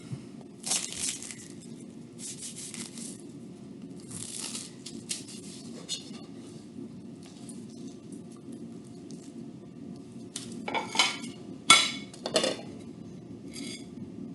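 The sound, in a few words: cutting a slice of strudel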